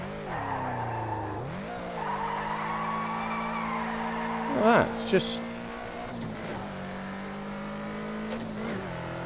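A race car in Project Cars 2 skids with squealing tires and a steady engine drone that rises and falls, with a brief sharp squeal burst midway, while a voice talks briefly over the continuous racing noise.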